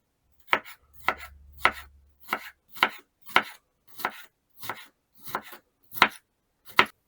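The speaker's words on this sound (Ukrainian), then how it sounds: "Перець поріжу на смужки, а тепер кубиками." Steady knife chopping of bell pepper into cubes on a cutting board, about a dozen crisp, evenly spaced chops at close range with no talking.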